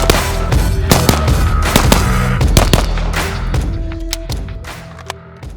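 A pistol fires rapid shots at a tactical games action stage, loud sharp cracks in uneven bursts with some ringing tones between them, slowly dying away toward the end and with no talking.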